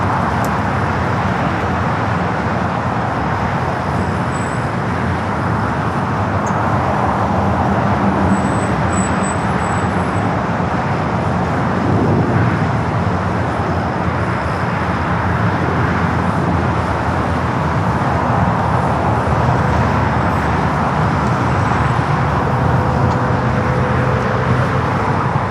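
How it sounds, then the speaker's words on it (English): An Air France Boeing 777-300ER takes off on runway 24 left at LAX, its jet engines roaring as a steady, loud, broadband rumble that holds at full strength throughout. "We got an Air France 777-300ER heading back to Paris, rolling down the 24 left."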